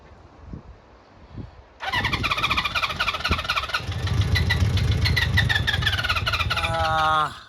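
A Honda CB400 Four classic motorcycle under restoration, with dry carburetors on two cylinders, cranks and catches, then runs loud and close with a rough, uneven idle before the revs sag and the engine dies.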